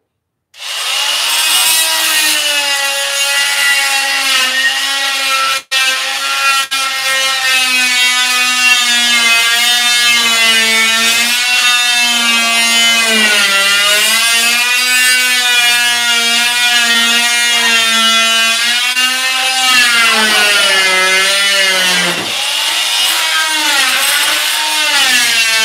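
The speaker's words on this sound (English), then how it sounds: "this is just a multi-tool or multi-function tool" A multi-tool power saw cuts into a wooden chair with a loud, sustained buzzing whine whose pitch wavers as the blade loads and eases, running nearly continuously with one brief interruption early on and no speech.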